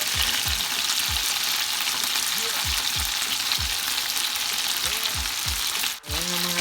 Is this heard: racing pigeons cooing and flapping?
no